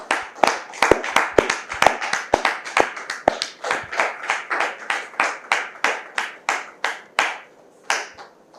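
Close, loud hand clapping from an audience welcoming a guest at a French-language church gathering, a sharp, steady run of claps that thins out toward the end.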